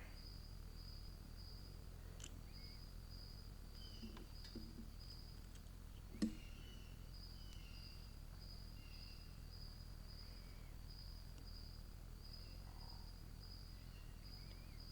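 Crickets chirp steadily throughout, a continuous high insect trill at moderate distance over faint background hum, with one brief sharp click partway through.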